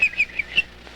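A man whistles an imitation of a bird call: four short, high chirping notes in an uneven rhythm, close and clear, followed by quiet.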